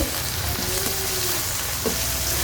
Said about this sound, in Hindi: लहसुन डाल के भी 1-2 मिनट के लिए हमने इसको भूनना है